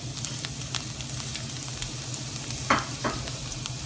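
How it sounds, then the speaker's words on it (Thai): Chopped garlic fries in hot oil in a pan while being stirred, a soft continuous sizzle with occasional scraping clicks of the utensil, heard alone without talk. "แล้วก็คนหัวกระเทียมให้มัน เหลืองอ่อน"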